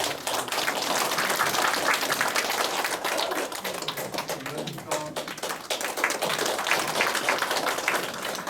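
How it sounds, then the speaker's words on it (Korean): Steady, lively applause from a lecture audience, dense clapping continuing throughout without pause. "뜨거운 박수로 맞이해주십시오."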